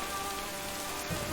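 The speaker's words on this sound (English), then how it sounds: "It's raining in this tunnel." Steady rain patters and drips inside a game tunnel, a continuous wet hiss of droplets heard on its own without any talking.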